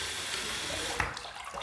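Water runs steadily from a sink tap to heat a razor, a continuous broadband rush with a faint clink partway through.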